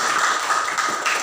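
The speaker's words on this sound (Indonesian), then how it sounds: "aplaus untuk kita semua" Classroom applause from students, a dense patter of many hands clapping together at steady volume throughout, fairly close.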